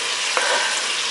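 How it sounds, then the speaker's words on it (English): Onions and pumpkin sauté in bacon fat with a loud, steady close sizzle, broken by a couple of quick stirring knocks. "now we're going to put in our onions and our pumpkin at the same time"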